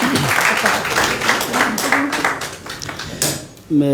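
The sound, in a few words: loud applause welcoming a speaker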